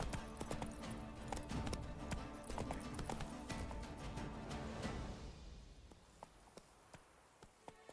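Horse hooves clip-clopping in The Witcher 3, a steady run of hoof beats that fades and thins toward the end, leaving a few scattered taps.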